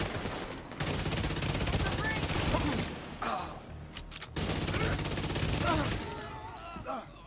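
Sustained automatic gunfire in The Division PvE combat, dense rapid bursts continuing nearly throughout with a short break, loud and close, with faint game voice lines underneath.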